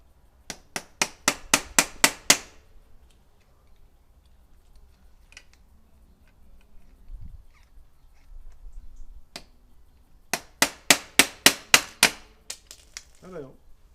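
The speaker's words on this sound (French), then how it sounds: "Tu tapes, il va sortir de l'autre côté." A hammer taps a bike bearing axle to drive it out, two quick bursts of about eight sharp metallic knocks each, close and loud, separated by a quiet stretch with faint handling noises.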